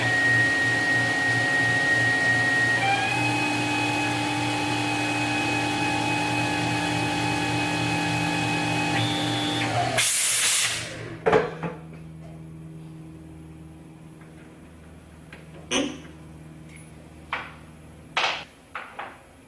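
A Tormach lathe neck-turning 6PPC brass cases: steady whining machine tone with a pitch step, then a sharp burst and scattered clanks and clicks as parts are handled, no talking.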